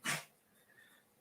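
A cat gives a single quick sneeze, a short sharp puff of air, close and soft, followed by faint quiet background.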